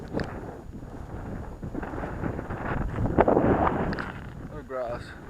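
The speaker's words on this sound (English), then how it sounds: "Of course it gets windy as soon as I start recording." Outdoors on a Goldfields walking track, gusts buffet the microphone with low rumbling roar that swells and eases throughout, while someone talks over it.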